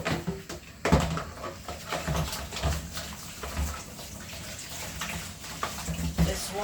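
Pots washed in a kitchen sink under running tap water, with splashing, scrubbing and intermittent clanks of cookware and a bowl, fairly close and uneven, with brief quiet speech over it.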